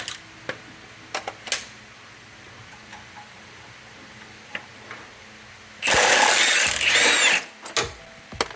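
An impact gun hammers loose an old bolt on a 1989 Honda Acty during timing belt work, a loud rattling burst of under two seconds following scattered tool clinks and workshop knocks.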